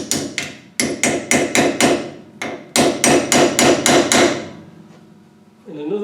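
Hammer blows strike a thick chisel being driven against a snapped bolt, a loud run of sharp metallic clanks in quick bursts with short pauses, ending in a brief scraping shuffle.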